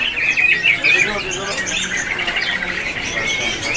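Oriental magpie-robins (kacer) call at a bird-selling kiosk, sharp squawks and chirps repeating steadily over a busy background, with people talking nearby.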